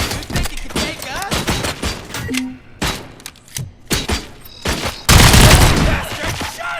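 Gunfire in the shooter game RoboCop: Rogue City comes as close, loud bursts of shots with thuds between them, then a sustained heavy volley near the end. Shouting voices mix in with the shots.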